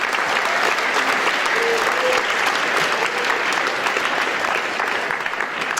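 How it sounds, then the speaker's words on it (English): Students in a school audience applaud together at a guest speaker event, a steady, dense wash of clapping that holds at full strength for several seconds with no talk over it. "you should give them all a round of applause, again, students, for the good work that they have done on your behalf"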